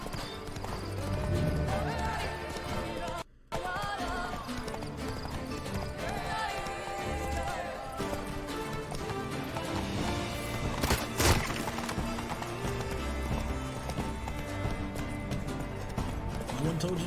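Roach, the horse, gallops in The Witcher 3: Blood and Wine, a continuous rhythmic clip-clop of hooves close by, with a brief whinny and someone talking over it.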